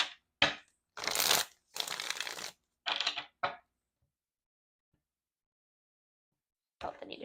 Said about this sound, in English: Oh, I need to shuffle one more time.